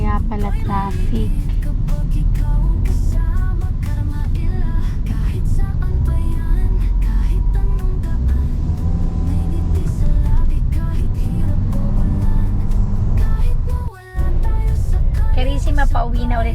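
Road traffic backed up near an accident on a provincial road, heard as a steady, loud engine drone and passing vehicles that fill the whole stretch, with a brief dropout near the end and talk over it.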